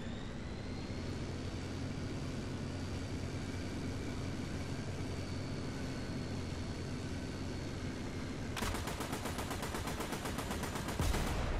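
Jet aircraft in the War Thunder tank game, heard as a steady droning engine roar that runs for several seconds before rapid machine-gun fire cuts in, rattling fast and loud to the end.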